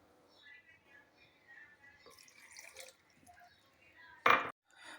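Half a cup of water is poured into a blender jug of chopped green chilies and ginger in a home kitchen, a short splashing burst near the end of soft background speech.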